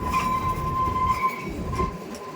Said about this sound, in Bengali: আস্তে আস্তে কু ঝিকঝিক করতে করতে উঠে এসেছি।